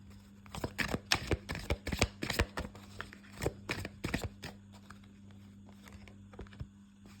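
Tarot cards shuffled for a reading, a run of quick papery riffles and taps close by, denser in the first half and thinning out toward the end.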